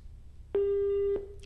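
A telephone busy tone sounds as a phone line disconnects: one steady, loud electronic beep of about half a second, with a short click or tail after it and no talking.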